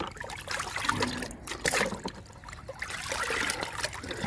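Liquid fertilizer trickling and splashing into a plant pot, irregular dribbling pours at close range, fairly soft, without speech.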